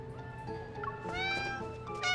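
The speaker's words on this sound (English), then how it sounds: "With his cat ears drooping, Xavier is surrounded by kitties" Several cats meow in the Love and Deepspace video game, with overlapping high, drawn-out calls over a steady musical background.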